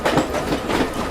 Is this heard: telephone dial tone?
no